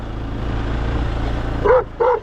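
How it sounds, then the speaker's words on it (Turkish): A dog gives two short, loud barks close by near the end, following a steady low rumble like a passing car or wind outdoors. "Tamam havlamak yok havlamak yok"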